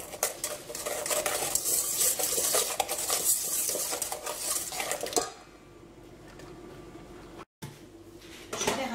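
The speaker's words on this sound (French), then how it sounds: "je vais mélanger." Sugar mixture being stirred in a bowl for a strawberry fraisier cake, a steady scraping whisk-and-utensil clatter for about five seconds, then quieter handling noises with a brief gap before stirring resumes.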